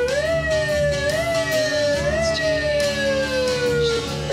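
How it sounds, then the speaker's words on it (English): A loud siren on an art car wails and sweeps through its different settings, rising and falling in pitch without any talk. "Siren check, all different settings."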